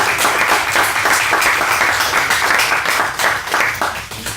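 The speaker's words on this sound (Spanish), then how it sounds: "Denle un aplauso al Señor" A church congregation at a Sunday service claps together in loud, dense applause that runs unbroken for about four seconds, with no voices heard over it.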